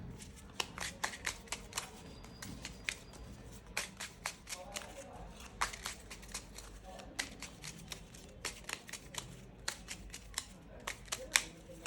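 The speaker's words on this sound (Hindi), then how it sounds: "ये भी कार्ड इसमें मिला लूंगी" A deck of tarot cards shuffled steadily by hand, a rapid train of crisp papery flicks repeating over a low background hum, close and continuous throughout.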